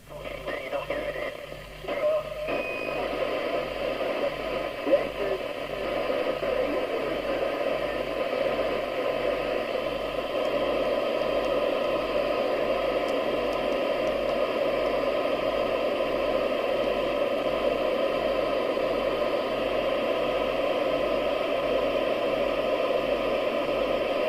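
A Midland 76-810 UK CB radio hisses with steady static as it is flicked through channels, with a few clicks near the start and a faint regular pulsing hum underneath, heard up close.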